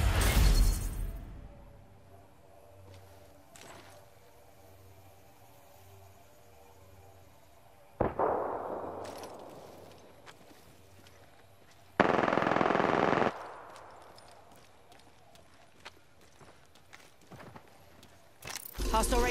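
Gunfire in Apex Legends: a burst of shots at the start, then isolated loud reports and a sustained bright blast of automatic fire midway, with quieter game ambience between.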